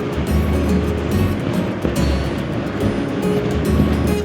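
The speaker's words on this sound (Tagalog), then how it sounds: "Medyo malakas yung alon." Loud, continuous rush of strong ocean surf at a beach in Anda, Bohol, with waves breaking and churning up close, no talking.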